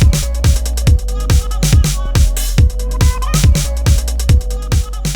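An electronic track from a Digitakt 2 groovebox: punchy kick drum on a steady four-on-the-floor beat with hi-hats, deep bass and a sustained synth line, loud and continuous with no voices.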